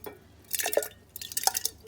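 Kefir grains dropped back into water, giving small wet drips and splashes in a couple of bursts, close and moderately loud with a faint background hum.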